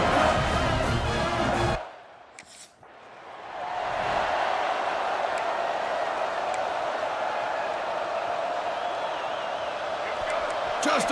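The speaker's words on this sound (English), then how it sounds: "this home crowd is fired up and ready to make a difference today" Home-stadium crowd roaring in EA Sports College Football 26 on PS5 Pro: a steady, dense wall of cheering that briefly cuts out for about two seconds near the start, then swells back and holds loud to the end.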